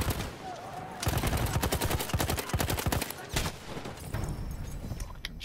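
Rapid, loud gunfire from a first-person shooter video game, a dense volley of sharp shots over several seconds followed by a few scattered reports, with a player's voice faintly in the mix.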